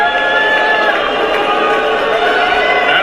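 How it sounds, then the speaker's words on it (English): Crowd at the Republican National Convention booing Mitch McConnell, a loud, dense, sustained roar of voices filling the whole stretch without a break. "Just look how loud Mitch McConnell was booed at the RNC."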